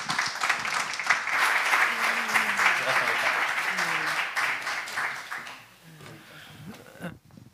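An audience at an evening talk applauds as someone speaker named Lydia is welcomed, a dense burst of clapping that swells, holds, then thins and fades toward the end.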